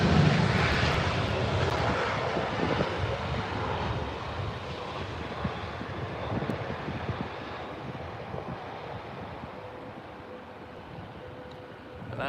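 A Saudi Arabian cargo aircraft comes in to land at London Heathrow, its engine roar broad and steady, slowly fading over the whole stretch against wind buffeting the microphone.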